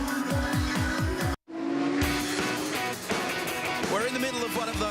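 Penrite Heritage Touring Cars racing at Albert Park, engines roaring past at close range with rising and falling revs and a brief cut, under a commentator's voice.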